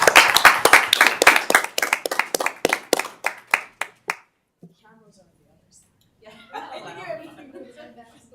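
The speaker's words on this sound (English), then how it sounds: "I'm going to clap. You may join me." A small group claps together at a city council meeting, a run of distinct, fairly close claps for about four seconds that stops abruptly, followed by quiet and then soft murmuring and chuckles.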